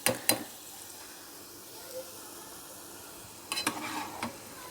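Faint, steady sizzling of stuffed meatballs (içli köfte) deep frying in oil, with a few sharp clattering bursts at the start and near the end.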